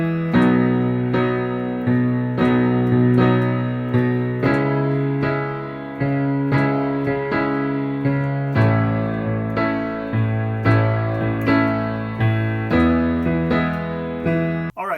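Piano chords for a song, played at song tempo in a steady repeating rhythm with bass notes shifting under each chord, close and full, with no voice.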